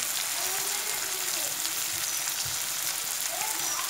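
Spice paste of ground cumin, chilli, ginger and garlic fries and gets stirred in hot oil, giving a steady close sizzle with soft scraping of the spoon, no voices.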